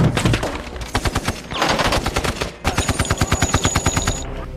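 Rapid automatic gunfire between two groups in a combat exchange, loud dense bursts of machine-gun fire with short gaps, close and continuous with no talk.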